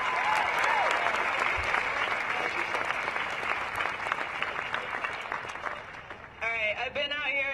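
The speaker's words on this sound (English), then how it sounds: "Y'all give her a hand clap." A crowd at a George Floyd protest rally in Denver breaks into loud, sustained clapping that fades gradually, and a voice starts speaking at the end.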